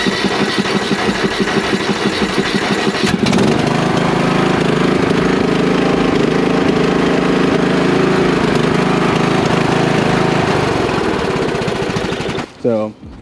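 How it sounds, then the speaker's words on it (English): A stock riding lawn mower engine cranks with rapid chugging pulses for about three seconds, then catches and runs at a steady loud drone close by before cutting out near the end. "It's a stock mower."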